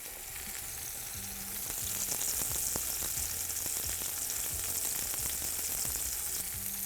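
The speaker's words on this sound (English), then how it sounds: "In that hot pan, which I already have going, we're gonna put some olive oil." Swordfish in olive oil in a hot pan gives off a steady, dense sizzle and crackle. It starts slightly softer and grows fuller after a couple of seconds, with faint low kitchen hum beneath it.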